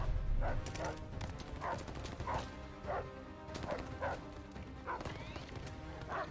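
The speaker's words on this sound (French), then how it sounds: "Il y a un autre chien, il est où? J'ai entendu aboyer." Dog barking in the World War II shooter Call of Duty: Vanguard, several short sharp barks spaced irregularly over a busy game backdrop of rumbles and clatter.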